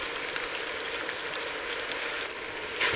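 Sizzling hiss of 1 kg of mutton frying in a hot pot over medium-high heat, a steady broadband crackle that holds evenly throughout with a brief louder burst near the end.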